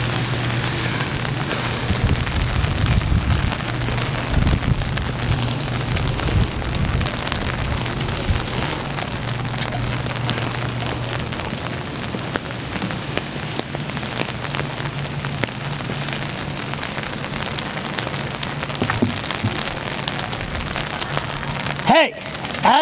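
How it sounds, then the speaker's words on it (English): Steady outdoor rain falls in the cold, a dense even patter that holds throughout at moderate loudness, with a voice talking over it and a sharp knock near the end. "It's cold, it's raining."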